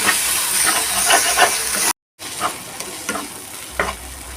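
Koi fish frying in a pan with a little sugar and garam masala, a steady close sizzle with scraping stir strokes, cut by a brief silent gap midway.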